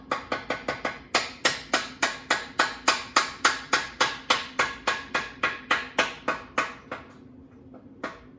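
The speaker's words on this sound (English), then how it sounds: "So use a block of wood to tap this bolt through." Repeated sharp taps of a block of wood driving a bolt through during reassembly of a 1990 Kawasaki ZXR750 motorcycle, about thirty evenly spaced strikes with ringing decay, close and loud, pausing briefly before one final tap.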